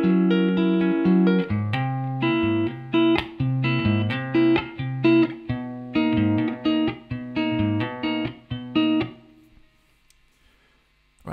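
Guitar plays a section of a song slowly, a steady run of plucked notes and chords over sustained bass tones, clear and close, fading out at the end with no voices.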